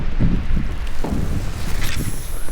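Steady wind roars across an open microphone at Clear Lake, a continuous low rumble with gusty buffeting and some faint rustling, with no voices.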